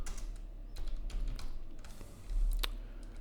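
Code is typed on a computer keyboard in quick irregular bursts of close, crisp key clicks, with one sharper tap near the end.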